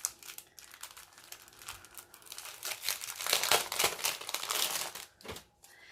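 A plastic sheet of nail stickers crinkles and crackles steadily while it is handled up close, with no talking.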